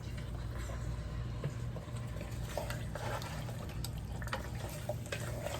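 Beef broth pours into a pot of stew in a continuous, close liquid splash and trickle, with faint clinks over a low background hum.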